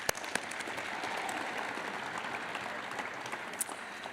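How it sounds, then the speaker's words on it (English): A room full of people applauds at an athletics awards ceremony, steady clapping with a few sharper claps standing out, heard from a distance and fairly quiet throughout. "Give yourself a round of applause for that."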